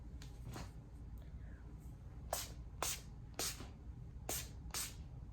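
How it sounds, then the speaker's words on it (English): Several short hissing bursts of a makeup setting spray mist, about six quick pumps in an irregular rhythm, close and fairly soft against a quiet background. "I'm just going to be using this Flawless Stay setting spray just to like prep my skin"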